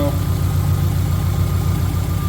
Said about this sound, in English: It's actually idling a lot better.